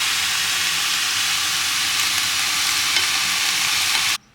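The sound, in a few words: diced kangaroo meat frying in a pan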